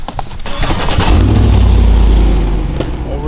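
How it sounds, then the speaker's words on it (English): A pickup truck engine cranks briefly, catches and fires up, swelling into a loud, close, deep rumbling rev that settles back toward idle. "Oh, reliable. Fires right out. Yeah, dude, listen to her."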